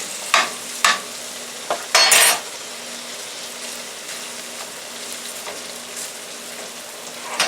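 Cold cooked rice is stirred and broken up in a frying pan, with a few distinct scraping and clattering strokes over a faint, steady sizzle.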